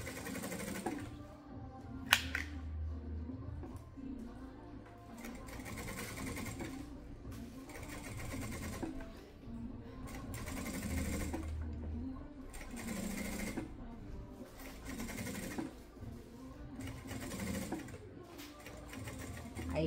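A sewing machine stitches a synthetic leather pouch in a steady whirring rattle, running in bursts of a second or two with brief pauses between them.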